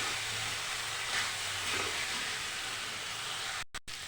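Potatoes sizzling and hissing in a pan as they are sautéed with a little water for Bengali aloo dum, a steady soft broadband sizzle without talk.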